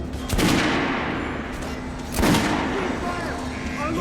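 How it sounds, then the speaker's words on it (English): Gunfire at a shooting range in the video game Metro: Last Light, with two heavy bursts of shots, one near the start and another about two seconds later, booming loudly and then fading into a lingering echo. "Head over to my range and try out those guns."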